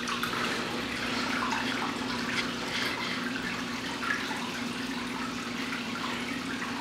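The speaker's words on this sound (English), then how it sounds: "Okay, there goes the water." Water rushing steadily into an aquarium tank through a Bean Animal style overflow as the siphon starts, a continuous close gurgling flow at even loudness with no talking.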